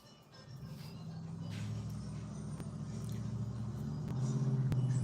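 A pickup truck drives past outside, its low engine rumble building steadily and growing louder over several seconds with a rising hum near the end.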